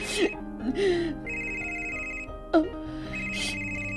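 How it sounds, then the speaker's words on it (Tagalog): A phone's incoming-call ringtone rings out in steady, repeating tones behind a television drama scene, with people talking over it in short bursts throughout. "Kinsa ka nang nanawag, Romero."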